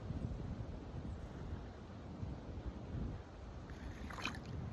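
Wind at a pond on a fishing outing, a continuous low rushing buffet with microphone rumble and faint water movement, steady throughout and without talk.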